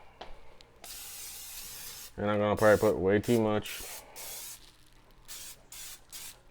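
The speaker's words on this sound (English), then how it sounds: "I'm going to put original non-stick" Several bursts of non-stick cooking spray hissing close by from an aerosol can, short and long, with a person speaking briefly in the middle.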